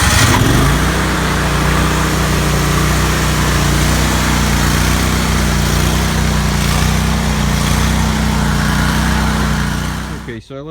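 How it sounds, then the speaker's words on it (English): A warm walk-behind lawn mower engine, just used for cutting grass, drones loud and steady for about ten seconds before sputtering and dying as it runs out of fuel. "So we're going to start it up and let it run till it conks out."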